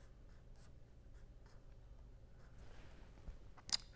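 A marker or pen drawing a chemical structure on a board during a polymer chemistry lecture, with soft intermittent scratchy strokes and a sharp squeak near the end, close and quiet, with no speech.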